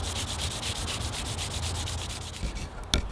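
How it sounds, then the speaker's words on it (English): Rhythmic back-and-forth rubbing of sandpaper on a greasewood foreshaft, a close, steady scratchy hiss with regular strokes, ending with a sharp tap. "Then I sanded it smooth with progressively finer grits of sandpaper."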